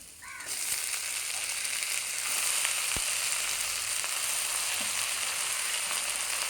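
Lafa greens hit a pan of frying garlic and onion, and a loud steady sizzle rises right after the start, with a single knock near the middle and no speech.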